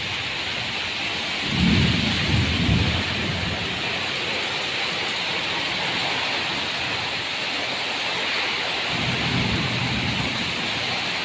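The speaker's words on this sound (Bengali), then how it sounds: "সেই বৃষ্টি হচ্ছে, সেই প্রচুর বৃষ্টি হচ্ছে।" Heavy rain pours steadily during a storm, a dense constant wash of noise, with two deeper low rumbles of thunder, one early and one near the end, and no talking.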